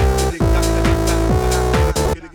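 Synth bass from two oscillators plus a sub, played without an LFO: a loud, buzzy, sustained tone with rich harmonics steps through a short sequence of notes and then cuts off, with no pulsing.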